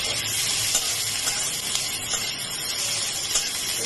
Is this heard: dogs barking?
no